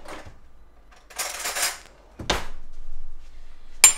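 A kitchen drawer rattles open and a spoon is taken out, giving a few sharp metallic clinks and scrapes separated by quiet gaps, close and alone.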